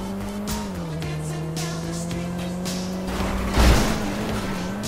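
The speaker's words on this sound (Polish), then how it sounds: "Znowu Mini Cooperem jadę." Mini Cooper driven in GTA Online, its engine droning at a steady pitch that dips and climbs with gear changes, with tire squeal and a short loud burst of skidding or impact near the end.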